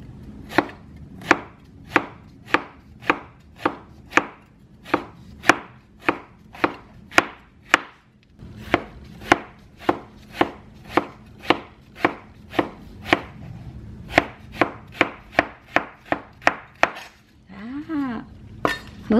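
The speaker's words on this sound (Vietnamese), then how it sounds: "Bây giờ mình sẽ cắt mướp ra." Luffa gourd cut into thick pieces with a knife, a long run of sharp, evenly spaced chops on a board with a short pause partway through, close and crisp, ending in a brief clink.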